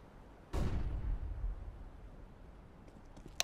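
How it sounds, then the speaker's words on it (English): A flashbang grenade in Counter-Strike: Global Offensive goes off with one sharp, loud burst and a long, fading rumble, followed by a quiet tail with a few faint clicks. "I'm throwing a flashbang."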